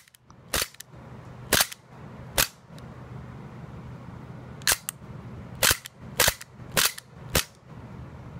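An HK USP gas blowback airsoft pistol is dry fired, giving sharp, loud mechanical slide clacks: a few spaced single shots, then a quicker cluster of four or five near the end, with quiet handling noise between them.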